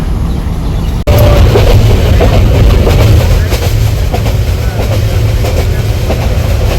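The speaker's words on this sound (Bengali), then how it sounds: "ছয়টা আটচল্লিশের ট্রেন এই যে সাতটা ত্রিশে আসলো" A loud, close passenger train rumbles continuously, with rhythmic clickety-clack from the wheels on the rails after a brief cut near the start.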